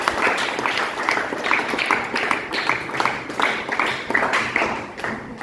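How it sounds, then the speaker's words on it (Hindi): An audience applauds after a classical dance demonstration, steady, moderately loud clapping with a slightly rhythmic pulse, continuing for several seconds before tapering off. "तालियां हो जाए"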